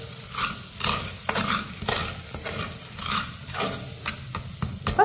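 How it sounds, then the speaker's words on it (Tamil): Chopped tomatoes with other diced vegetables being sautéed in a pan, a steady sizzle and frying crackle broken by repeated scraping stirs of a spoon, close and alone without talk. "இதை எல்லாத்தையுமே நல்லா வதக்கிக்கிடுவோம்."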